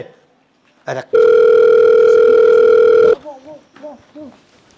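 A phone call being placed: a single loud, steady electronic ringback tone holds for about two seconds, then cuts off and gives way to quieter wavering sounds.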